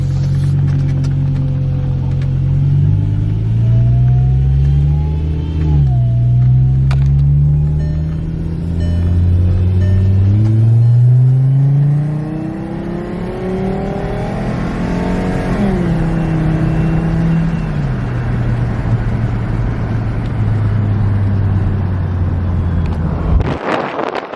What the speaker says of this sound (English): Alright, so we are in the Passat. Go for a little bit of a drive.